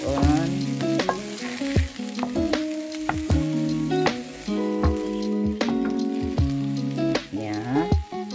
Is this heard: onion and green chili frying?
yes